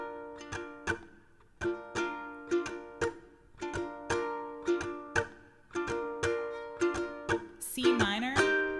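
Ukulele strummed chord by chord in a rhythmic pattern for a song, clear and close, with a brief sliding note near the end.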